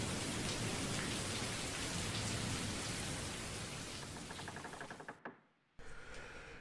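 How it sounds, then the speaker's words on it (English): Heavy pouring rain hisses steadily and loudly with no voices, then drops out abruptly near the end before resuming. "could almost barely be heard over the sound of the pouring rain"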